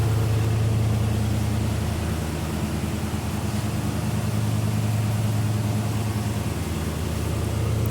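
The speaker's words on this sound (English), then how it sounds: "so sitting here idling like it's supposed to," A 1977 Chevy C10 Cheyenne pickup truck engine idling steadily with a low, even rumble and a constant hiss, with no other sounds.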